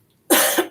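A single short, harsh cough from one person, close and loud, with a brief double push before it fades, alone without talking.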